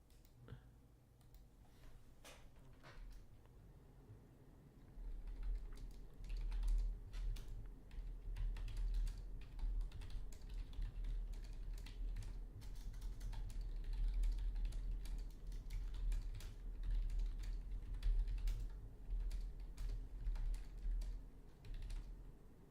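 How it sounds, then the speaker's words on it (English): Continuous computer keyboard typing, with quick irregular key clicks tapping on and off over a low steady background hum for about twenty seconds. "Sorry, Kara was typing to me"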